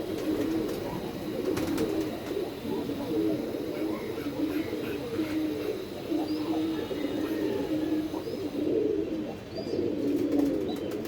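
Pigeons coo in low, repeated rolling calls close by, continuing throughout over a constant background hum.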